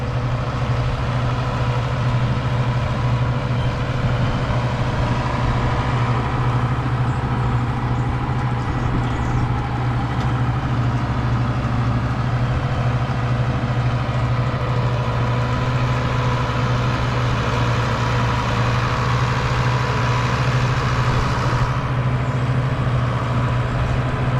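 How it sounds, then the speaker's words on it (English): A heavy tractor engine drones steadily and loudly throughout while burying a water line, a constant low rumble with no break and no voices. "tractor's starting to work a little bit now."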